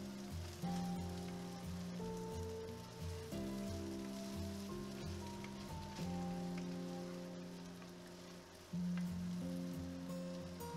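Potatoes and onions for home fries sizzle steadily in a pan while being tossed together, a continuous frying hiss heard under fairly loud background music.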